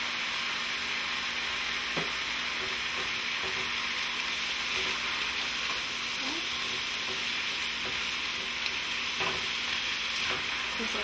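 Peppers sizzle and fry steadily in a hot pan for vegan fajitas, a constant crackling hiss with occasional stirring clinks, heard alone without talk.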